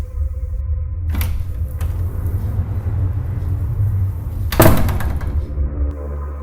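A door shuts in a haunted house with a sharp knock, followed a few seconds later by a louder slam, both set against a constant deep, booming rumble.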